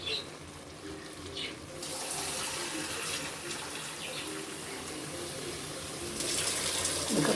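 Water is poured into a pan of chicken gravy as a quiet, continuous trickling gush that swells briefly in the middle and again at the end, with no voices.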